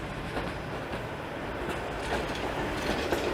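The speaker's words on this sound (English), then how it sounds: "That streetcar is heading to exhibition." A Toronto streetcar passes on Bathurst Street, giving a steady low rumble of wheels on rails with faint clicking, building slightly toward a sharp metallic screech at the very end, no talking.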